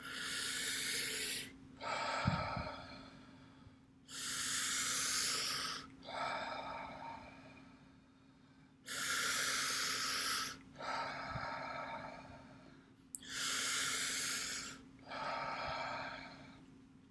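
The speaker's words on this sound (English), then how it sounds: "notice that I'm doing this breathing through my mouth" Deep, forceful mouth breathing in conscious connected breathwork runs in continuous cycles with no pause between them, close and loud, each inhale a long rushing hiss followed by a softer exhale.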